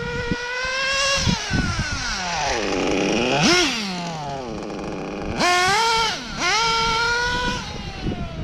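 A small nitro RC car engine runs close and loud with a high, buzzing idle, broken by several quick throttle blips that rise and fall in pitch before settling back to a low idle.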